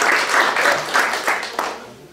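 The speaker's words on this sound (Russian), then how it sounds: "Аплодисменты, пожалуйста" An audience applauds at a stage show honouring a group of friends, with a loud, sustained wash of clapping that swells in several waves before easing off.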